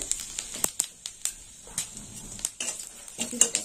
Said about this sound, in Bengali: তো ফোড়নে নিয়েছি শুকনো লঙ্কা, দিয়ে দিলাম জিরে।